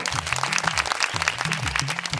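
Crowd clapping for a child on a Yoruba children's game show, a dense, lively patter of many hands with a low hum beneath.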